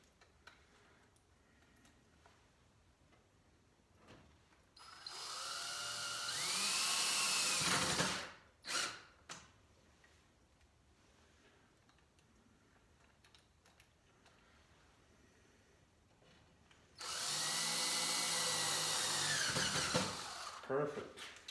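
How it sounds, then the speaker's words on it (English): A power drill bores recesses in wood while a hutch is built, in two loud, sustained bursts of whirring motor that ramp up and wind down, with quiet stretches and faint talk between them. "Well, my improvised recess drilling is working better, I think."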